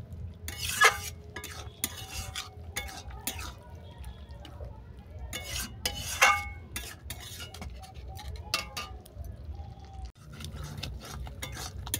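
A thick curry of boroli fish head and red amaranth leaves is stirred in a pot, with repeated scraping and clinking strokes of a spoon against metal in irregular bursts over a low simmer.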